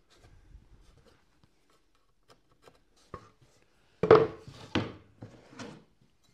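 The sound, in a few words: pencil marking wood along a square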